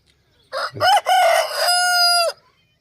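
A single loud rooster crow rings out up close, rising then holding a long strained note before cutting off, with no other sounds around it.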